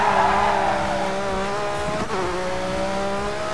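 Engine of an off-road rally car in Dirt 3, driven on dirt in Michigan, holds a steady loud whine with rising and falling pitch and a brief dip as it bounces over rough ground, with no voices.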